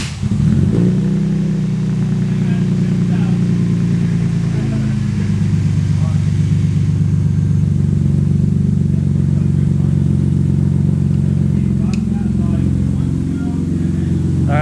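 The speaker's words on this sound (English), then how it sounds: "Let's see if she cranks and fires up." A BMW E36 with recently repaired fuel problems catches and fires up within the first second, then settles into a steady, loud, low rumbling idle that carries on unbroken for the rest of the clip.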